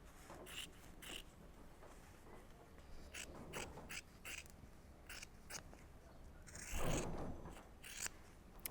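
Sewing scissors snip through fabric, trimming the seam allowance at the corners of a sailor pants waistband: a quick run of short, crisp cuts, close and fairly quiet, with a longer rustling slice near the end.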